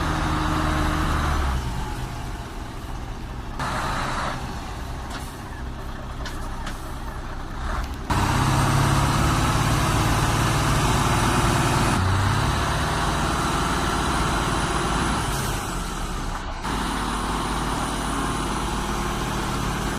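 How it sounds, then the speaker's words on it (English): An MTZ 82 Belarus four-wheel-drive tractor churns through deep snow, its diesel engine loud and continuous with surges in load and a few sharp hissing and clanking bursts. "This MTZ 82 Belarus is hitting the snow like a tank."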